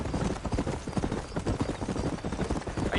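Steady clip-clopping of horse hooves at a trot in Red Dead Redemption, close and continuous throughout, with a rhythmic pattern of hoof strikes over a faint ambient bed.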